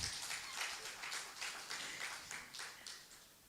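Faint audience applause at a postgraduate conference, a soft steady patter of many hands clapping at a distance, continuing without voices.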